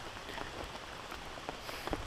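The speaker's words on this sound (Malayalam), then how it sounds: "പിന്നെയും മഴ തുടങ്ങിയിട്ടുണ്ട്" Steady rain falls on a rural Kerala plot with banana plants, a dense, even patter with a few louder drops landing close by, and no voices.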